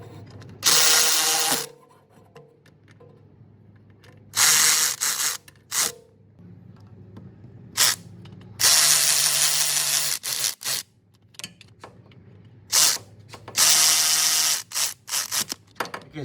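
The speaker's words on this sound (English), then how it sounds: "I'm going to tighten those 13 millimeter bolts." A ratchet tightens 13 mm bolts on a BMW E39 5 Series (530i/525i/528i) motor mount: a series of loud, rapid mechanical bursts of roughly a second each, separated by quiet pauses, with no talking.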